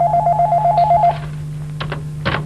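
Telephone ringing during a live 1997 broadcast, a loud warbling electronic ring for about a second that then stops, leaving a steady hum with a few soft clicks.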